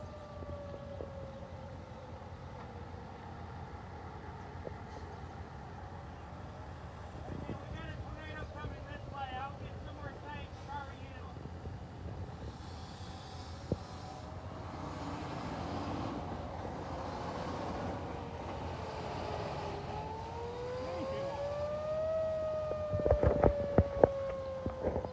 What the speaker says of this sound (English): So those sirens are starting to move in on us.